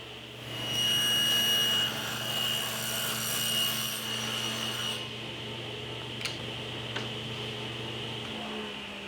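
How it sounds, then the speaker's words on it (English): A table saw cuts grooves into wooden shelves with a steady motor hum and a loud grinding cut rising early, then the blade spins on more quietly with a couple of faint knocks before winding down. "Now I'm ready to cut the groove into all of the shelves."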